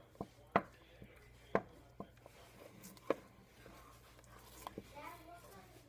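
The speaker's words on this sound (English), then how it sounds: "Kind of cut it up with your utensil you're using so that it'll melt faster." A utensil cuts through cheese in a pan for a macaroni and cheeseburger bake, heard as several sharp taps and scrapes spaced about a second apart against a quiet background with faint speech.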